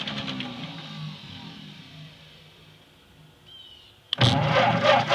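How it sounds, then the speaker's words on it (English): A car engine fires up and catches after a battery charger is switched back on. Near the end it bursts into a loud, rough running roar, preceded by several seconds of quiet. "Turn the battery charger back on and see if we can get this thing to start."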